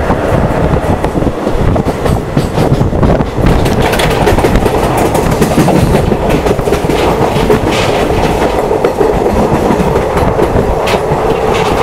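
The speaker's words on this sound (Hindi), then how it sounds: "और आप इंजन की एक्सेलरेशन सुन सकते हैं" A train in India rumbles loudly and steadily with rhythmic wheel clatter and heavy engine drone as it accelerates with banker locomotives on a ghat section, heard close up from on board.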